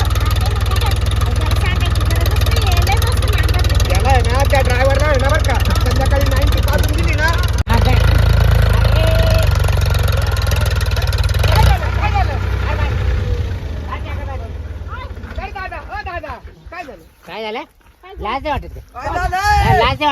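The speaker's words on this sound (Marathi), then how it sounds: "ट्रॅक्टर कुठं चाललाय" A tractor engine drones steadily and loudly throughout, its rumble thinning out near the end while people talk over it.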